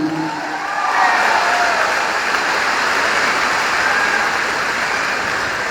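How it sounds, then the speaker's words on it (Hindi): Audience at a network marketing event giving loud, sustained applause for their mentor, a dense wash of clapping that swells in and holds steady throughout. "एक जोरदार तालियां होनी चाहिए हमारे महागुरु मिस्टर महिपाल सर के लिए।"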